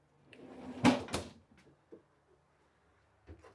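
An upper cabinet door in a 2023 Keystone Montana fifth-wheel RV is shut, giving a close, solid wooden knock with a brief rattle, followed by a few faint small bumps in a quiet interior.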